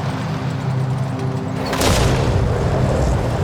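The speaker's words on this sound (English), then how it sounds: "attack from a suicide bomber." A suicide bomb explodes during an attack on Marines on patrol in Jalalabad, Afghanistan: one sudden loud boom about halfway through breaks a low steady background, followed by a rough, rumbling tail.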